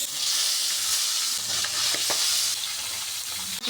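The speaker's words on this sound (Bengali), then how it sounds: "তেল গরম হয়ে গেছে, ধোঁয়া উঠতে লেগেছে, এই অবস্থায় এবার মাছগুলো দিয়ে দিব" Small egg-filled fish frying in smoking-hot oil, a steady close crackling sizzle with bursts of spatter running throughout, no voices.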